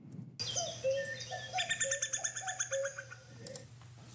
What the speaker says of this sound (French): Alors c'est un chant de coucou.